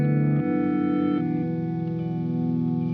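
A looping ambient guitar phrase from a Blooper pedal, layered with an octave-down reversed copy of itself, forming a dense sustained drone with shifting tones and warbling modulation, steady and close with no voices.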